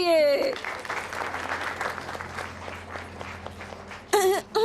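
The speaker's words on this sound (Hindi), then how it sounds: "तो चलो अब जोरदार तालियां हो जाए किसके लिए?" Loud, dense applause fills the middle of the clip, framed by a voice at the start and another voice breaking in at the end.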